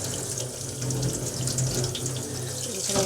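A water tap runs steadily into a sink while a cyanotype print is rinsed, a continuous close splashing hiss with slight shifts as the water hits the print, and no speech.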